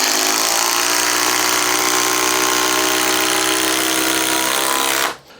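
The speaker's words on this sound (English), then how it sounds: "now we're gonna drive in just some larger fasteners" A Makita XGT drill drives larger fasteners, a loud, close, strained motor whine holding steady for about five seconds before cutting off abruptly.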